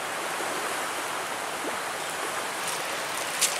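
A creek where salmon run upstream rushes in a steady, broad wash of flowing water, close and continuous, with one small splash near the end.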